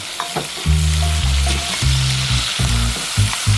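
Pork belly with a generous amount of black pepper sizzles loudly in a hot pan while being stirred, producing a steady close-up hiss with scraping stir strokes and a low hum underneath.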